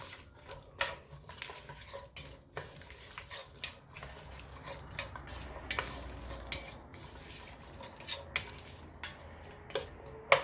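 A spoon stirs potato soup in a pot with garlic powder added, giving quiet scraping and clinking against the metal, soft and fairly steady with occasional sharper knocks.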